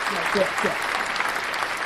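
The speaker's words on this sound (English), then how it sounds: "Let's give her a round of applause." Applause from an online stream audience fills the short stretch as a steady, dense wash of clapping, with voices mixed in underneath.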